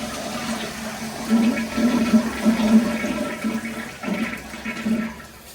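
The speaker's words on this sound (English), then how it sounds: "Angle stop's open. Test the flush." A wall-mounted toilet with a flushometer, opened at the angle stop after a gasket replacement, flushes with a loud rushing surge of water that churns close by and then tapers off.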